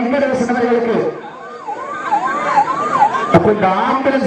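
An ambulance siren wails with a rising and falling, looping tone, loud and close, beside a roadside bull-taming event, amid crowd noise and a sharp bang near the end.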